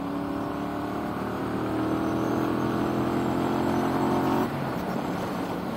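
A Triumph Bobber motorcycle engine drones steadily while riding, a loud, close, continuous exhaust note that rises slightly then drops off as the throttle eases near the end.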